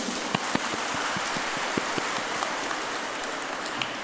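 Congregation clapping in a church during a Catholic Mass homily, a dense, steady patter of many hands filling the space with scattered louder claps, no voices over it.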